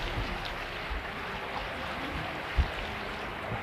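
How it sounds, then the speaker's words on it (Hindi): Sea waves surge and wash in a continuous, loud roar of churning surf, with one heavier thump near the end. "तेरी लहरें कितनी ऊंची आती है, कितनी जोर से तेरी लहरें आती है"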